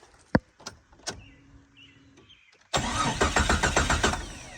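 A turbocharged Jeep Cherokee XJ engine cranks and fires up after a few clicks and a short whir, catching into a loud, close, rough rumble with rhythmic pulses as it settles.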